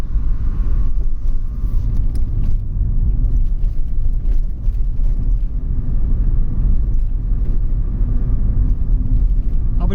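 A Vauxhall car fitted with a swapped 18 SEH eight-valve engine in place of a rattling 2.0 runs steadily, a loud low droning rumble with wind buffeting the microphone and no talk.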